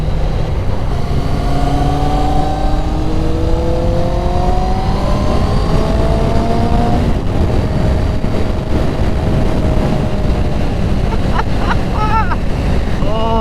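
A 2000 Kawasaki Ninja ZX6R, a Gen 1 sportsbike, revs up in rising engine sweeps that climb in pitch and then settle, buried under heavy wind buffeting on the microphone, with brief voices near the end.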